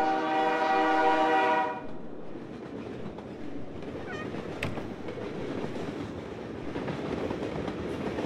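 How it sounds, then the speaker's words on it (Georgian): A train sounds its horn loudly, a sustained multi-tone blast in the Drug Dealer Simulator video game, followed by steady rumbling rail noise as it rolls past for several seconds. "ნახე რა მატარებელი გვაქვს ბიჭები"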